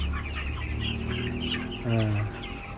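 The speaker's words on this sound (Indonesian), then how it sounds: "ini ayam boiler umur 13 hari" Broiler chickens, thirteen days old, cluck steadily in a close-house poultry shed, a dense flock chorus near and loud, with one louder call rising near the end.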